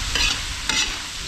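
Food sizzles steadily in a frying pan over a strong flame in a restaurant kitchen, with two quick scraping stir strokes cutting through the loud, close frying noise and no talking.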